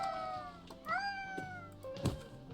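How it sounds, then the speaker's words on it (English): An unhappy pet cat meows several times up close, drawn-out whining cries with rising and falling pitch, heard alone over a quiet room with a soft thump near the end. "my kitty cat's not happy"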